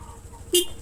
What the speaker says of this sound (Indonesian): ini setelah klakson baru terpasang, beda ya, semakin nyaring